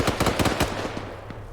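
Rapid automatic gunfire from an infantry firefight in Arma 3, a quick burst of sharp cracks in the first half second, then scattered fainter shots and echoing reports trailing off, with no voices.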